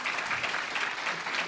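Audience applause at a recorded law event on Gonzalez vs. Raich, a dense continuous wash of many hands clapping at once, fairly faint and steady with no voices over it.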